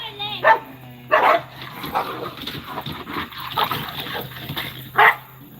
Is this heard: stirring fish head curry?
no